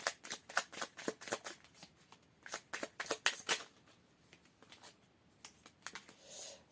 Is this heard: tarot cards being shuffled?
yes